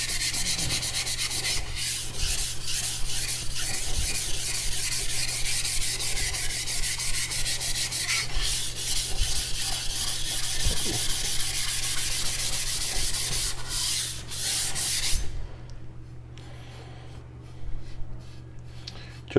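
A CCK Chinese cleaver is stroked over a sharpening stone in a steady, continuous rasping rhythm. The scraping sounds close and even, then turns softer and sparser near the end, with no voices.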